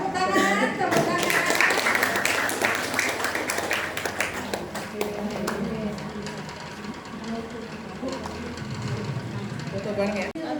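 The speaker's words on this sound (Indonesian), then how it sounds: "Tepuk tangan, tepuk tangan." Seniors at a Kartini Day event held by an elderly school applaud together, a steady stream of overlapping hand claps that runs throughout and fades slightly toward the end, with voices mixed in.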